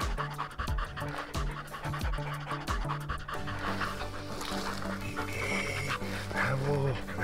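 Hunting dogs tired from the heat pant rapidly and rhythmically close by during a partridge and rabbit hunt, the heavy breathing continuing throughout.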